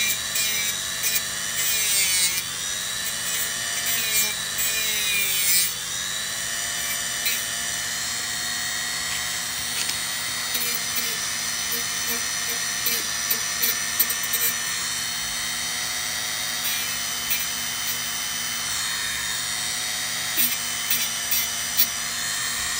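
A small high-pitched power tool whines steadily up close while working on cups and phone cases, its pitch wavering and dipping now and then under faint background sound.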